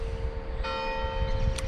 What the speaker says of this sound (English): that's the bells from the church.